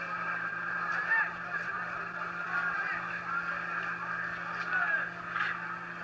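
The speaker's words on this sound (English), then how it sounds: "It's a talking bird." A talking bird in the adventure game The Longest Journey lets out honking, squawking calls that repeat over a steady hum of game background sound.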